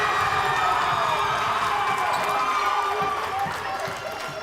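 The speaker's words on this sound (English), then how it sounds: "Rustler crowd letting him hear it to try to break the tie" Men's college basketball crowd at Central Wyoming College during a free throw: a loud, sustained roar of shouting and jeering fans fills the gym, easing slightly near the end, with a commentator's voice underneath.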